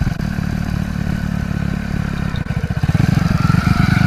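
A Hero Splendor motorcycle with a broken clutch cable pulls away after being put into gear. Its steady engine chug turns into a louder, rhythmic throttle pulse in the second half, close by.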